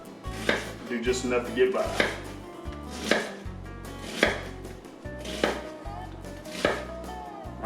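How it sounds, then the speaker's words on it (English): A knife chops wild hog meat into long strips on a cutting board, about a dozen steady thuds close by, with a faint spoken phrase partway through. "I like longer strips in my tacos, so I'm going to cut these somewhat long"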